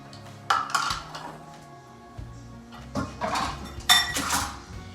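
Dishes, pots and cutlery clink and clatter in a home kitchen during brownie baking, several separate bursts of clanking and rattling close by with quiet pauses between them, no talking.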